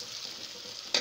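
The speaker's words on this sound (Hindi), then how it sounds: "प्याज जब फ्राई होंगे थोड़े से नरम हो जाएं फिर इसमें मसाला डालेंगे हम" Onions frying in a pan during curry preparation give a steady, soft sizzle throughout, with a brief louder crackling burst near the end, heard close and without talk.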